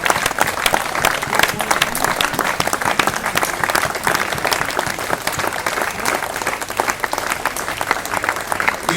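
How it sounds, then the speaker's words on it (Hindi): Sustained, dense clapping from an audience at a Gwalior ceremony honouring social workers, loud and continuous throughout with no let-up or talk over it. "ताली बजती रहने चाहिए, 30 सेकंड में रोक दूंगा।"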